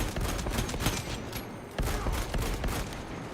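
Heavy volleys of gunfire from Space Marine 2 pound continuously and loud, dense overlapping shots with a short dip midway before the barrage resumes, no voices.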